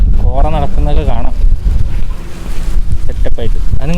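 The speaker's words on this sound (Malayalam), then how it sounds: "നല്ല കാറ്റുണ്ട് കേട്ടോ" Strong wind buffets the microphone at Bangad waterfalls in Kasargod, a steady loud rumble running throughout while people talk over it.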